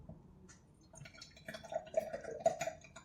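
Homemade pineapple hot sauce poured into a clean glass bottle, soft trickling and dripping that builds into irregular gurgles and splashes, close and quiet with no talking.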